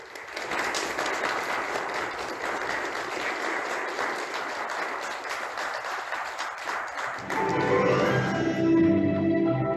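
An audience at a lecture event in Dangjin applauds, a loud, continuous wash of many hands clapping that swells toward the end, with no talk over it.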